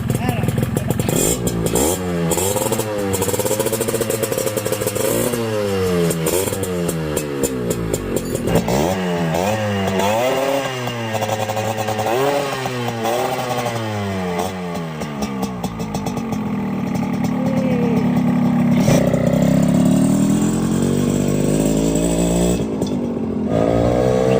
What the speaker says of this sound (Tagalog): ito na yung time para mag soundcheck naman tayo ng makina at saka ng tambutso